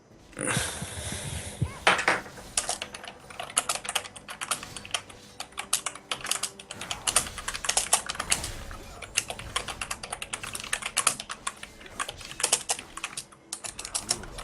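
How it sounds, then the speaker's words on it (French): Fast, steady clatter of computer keyboard typing during a League of Legends match, close and fairly loud, with bursts of keystrokes and short pauses, no voices. "C'est très le clavier qui fait du bruit."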